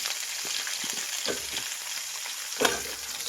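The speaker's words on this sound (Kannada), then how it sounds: "ಇದು ಅಷ್ಟೇ ಫ್ರೈ ಮಾಡಬೇಕು ನುಗ್ಗೆಕಾಯಿನ. ನುಗ್ಗೆಕಾಯಿ ಎಣ್ಣೆಲಿ ಫ್ರೈ ಮಾಡೋದ್ರಿಂದ ತುಂಬಾ ರುಚಿಯಾಗಿರುತ್ತೆ ಸಾಂಬಾರು." Moringa drumstick pods frying in hot oil for a wedding-style sambar, a steady close sizzle with stirring scrapes and a louder burst near the end, no talk.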